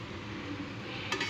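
Chicken vegetable spaghetti coated in masala is stirred gently in a hot pan, giving a steady close sizzle with a brief soft scrape near the end.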